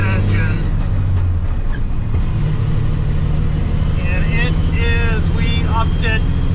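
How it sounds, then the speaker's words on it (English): An old Peterbilt dump truck with a 12-liter Cat engine rumbles loudly and steadily up close, while someone talks over the drone. "Now this truck is a 12-liter cat engine."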